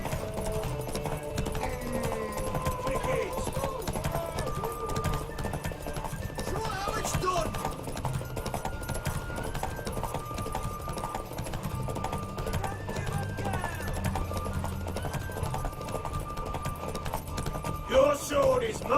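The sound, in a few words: galloping horses in race, from video game The Witcher 3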